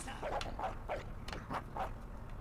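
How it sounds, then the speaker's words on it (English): A dog barks in the video game Fable 3, giving a run of four or five quick, muffled barks at a moderate distance over a low background hum. "What are you barking at, Torque?"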